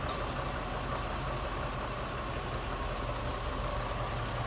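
The 4.6-liter dual overhead cam V8 of a 2000 Cadillac Eldorado ETC idles with a smooth, steady, low hum and a faint mechanical ticking, heard up close with the hood open and no talking.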